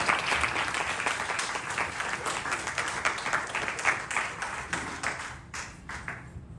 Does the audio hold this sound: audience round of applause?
yes